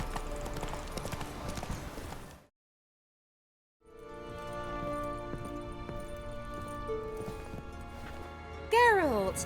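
Hooves of Roach, Geralt's horse in The Witcher 3: Wild Hunt, clop in a steady galloping rhythm over game music, break off into a moment of silence, then resume with a voice briefly heard near the end.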